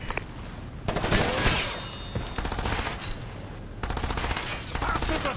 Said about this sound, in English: Bastards are shooting at us.